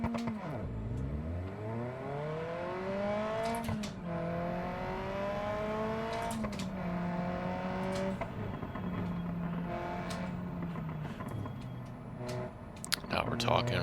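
A Sherrier Ardente coupe in the BeamNG driving game revs and pulls through its gears, with engine pitch climbing and dropping across several shifts, under a voice and a couple of sharp clicks.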